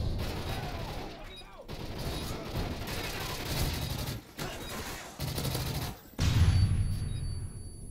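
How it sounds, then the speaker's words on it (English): Gunfire in Call of Duty: Modern Warfare 3 demolition mode, a dense stream of rapid shots and mechanical clatter with brief pauses, ending in a heavier blast, with a voice talking over parts of it. "Sniper rifle for the win!"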